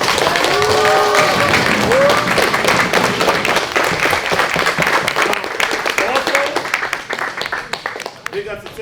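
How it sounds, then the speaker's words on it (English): An audience at a breakdancing panel discussion claps loudly and continuously, with scattered whoops and voices over it, the applause gradually thinning toward the end. "So let's start with the clapping."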